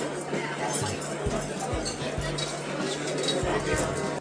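Champagne glasses clink together in a toast during a gala-night dinner aboard the Queen Mary 2, a few light chinks rising over steady dining-room chatter and voices.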